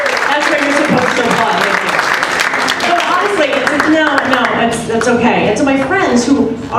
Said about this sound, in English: That's where you're supposed to applaud.